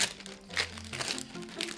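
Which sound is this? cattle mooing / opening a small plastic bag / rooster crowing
opening a small plastic bag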